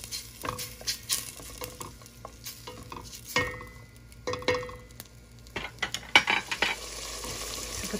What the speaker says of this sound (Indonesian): Kemudian kita aduk hingga bumbu ini sedikit mengering dan mengeluarkan aroma.